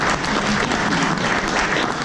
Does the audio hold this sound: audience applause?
yes